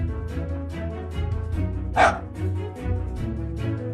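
A robot dog gives repeated electronic barks and yips in quick bursts, with a brief sharper burst midway, clear and close against a faint musical background.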